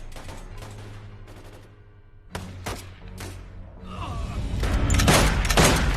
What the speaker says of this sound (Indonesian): Sue mengambil senjata dan menembak Molly